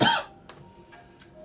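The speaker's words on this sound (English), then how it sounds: "Still coughing up a lung like all day, which is so annoying," A person with a lingering illness gives a sharp cough followed by two or three softer, shorter coughs, close and alone without talk.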